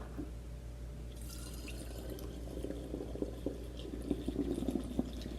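Water pouring and splashing into a mixture, a soft trickling stream that grows into louder bubbling drips toward the end, heard close up with no talk.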